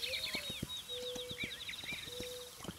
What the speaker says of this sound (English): I just want to give you an opportunity to listen to those noises. I mean, for those birds.